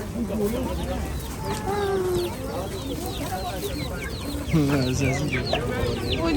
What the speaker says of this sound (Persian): صدای جوجه میاد.